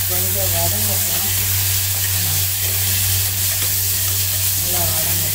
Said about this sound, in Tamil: வெங்காயம், தக்காளி, பூண்டு, சின்ன வெங்காயம் எல்லாம் போட்டேன். கொஞ்சம் வதங்கட்டும்.